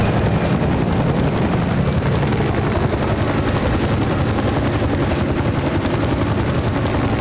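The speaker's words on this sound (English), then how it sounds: "there's a chopper coming too" A helicopter approaches in a video game, its loud steady rotor thump and engine roar filling the whole stretch with no voices.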